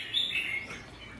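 A pet songbird kept for song contests gives a short burst of high, bright chirps, close and clear against quiet surroundings.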